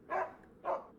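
Two quick barks from a dog in the game Dracula 3: Path of the Dragon, close together and moderately loud over quiet ambience.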